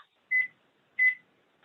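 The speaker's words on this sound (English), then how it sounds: "let me set a timer for 20 minutes" A kitchen timer being set while dirty rice cooks gives two short, clear electronic beeps about half a second apart, then the brief start of a third, close and alone in a quiet kitchen.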